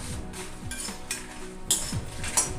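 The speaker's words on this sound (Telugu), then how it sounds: "ఎండుమిరపకాయలు ఫ్లేమ్ చిన్నగా పెట్టుకొని వేయించుకోవాలి." Dried red chillies dry roasted over a low flame for toor dal spice powder, stirred in the pan with soft scraping and a few light clinks over a faint, steady sizzle.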